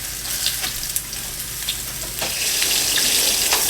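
Pork chops browning in a frying pan, with a loud, steady, close sizzle that grows slightly stronger and is broken by a few light clicks and spatters.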